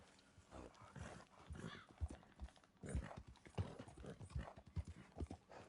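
Horse hooves clip-clop at a steady trotting rhythm in the video game Red Dead Redemption II, regular close thuds carrying on throughout at a low overall level.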